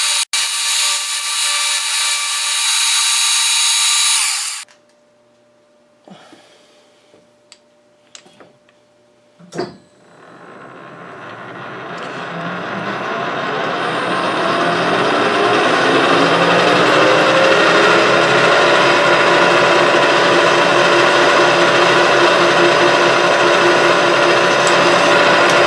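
Metal lathe taking a heavy spring pass on a steel log grapple swivel shaft: a loud machine run that stops, a few clanks and clicks in near silence, then a steady cutting whine that builds and holds to the end.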